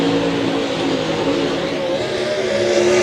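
A Late Model race car on a Capital chassis with Mullins horsepower runs a qualifying lap at Davenport, its engine a loud, steady roar with a sustained high drone held close throughout.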